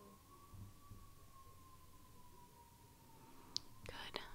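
Faint siren wailing in the distance as one long, steady tone, drifting quietly beneath soft whispering, with a few light taps near the end.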